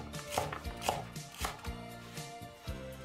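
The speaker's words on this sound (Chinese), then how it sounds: "切点洋葱丝。" A knife slices onion into thin strips on a cutting board, a series of close, distinct chops in an uneven rhythm, heard alone.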